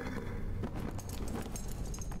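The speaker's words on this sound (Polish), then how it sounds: "Rogaty koń." Hooves of a horned horse in Elden Ring clop in a dense, steady rhythm beneath a constant loud game soundscape, with no voice over them.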